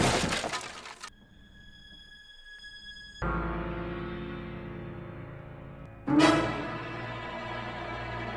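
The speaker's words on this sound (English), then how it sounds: "loses control of his car, and smashes into Quahog's beloved nativity scene" A car smashes into a nativity scene with a sharp burst of shattering glass, followed by ringing tones, a lower sustained rumble and a second crashing, breaking impact near the end.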